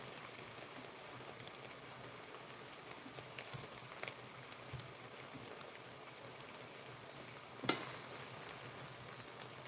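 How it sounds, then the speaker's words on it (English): Food sizzles steadily in a hot pan on a stove during a home cooking show. A soft, continuous crackling hiss carries throughout, with a slightly louder flare near the end. "Hear that sizzle? That's how you know you got a nice meal."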